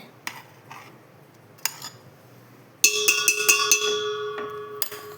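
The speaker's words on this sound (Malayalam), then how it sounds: "അപ്പോൾ ഞാനിതെല്ലാം ഈ പാത്രത്തിലേക്ക് മാറ്റട്ടെ." Ground jackfruit seed mixture for a payasam being moved from a mixer jar into a cooking vessel, with a few sharp metallic clinks and scrapes, then a ringing clatter of utensils against a metal pot at close range.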